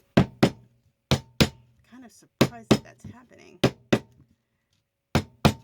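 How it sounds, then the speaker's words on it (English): Sharp, hard knocks strike a stuck glass jar lid in quick pairs, repeated several times, loud and close, with a person talking between the blows. "Okay, sorry about that banging."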